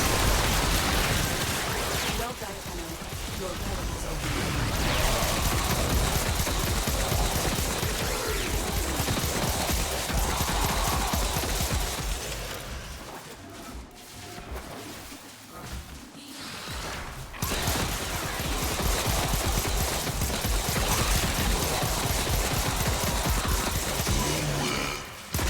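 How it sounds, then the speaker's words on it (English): Epitaph weapon firing in the Warframe video game, with large explosions: dense, continuous bursts of gunfire and blasts that dip briefly in the middle before resuming at full loudness. "Besides, look at the size of the explosion."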